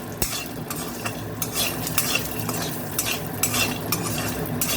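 Dal bodi lentil dumplings frying in a small amount of oil, a steady bubbling sizzle close by, punctuated by sharp clinks and scrapes of a metal spoon stirring the pan.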